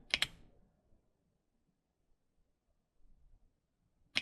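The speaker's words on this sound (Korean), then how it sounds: "마우스 우클릭" A couple of sharp computer mouse right-clicks at the start and another at the very end, close and crisp, separated by near silence.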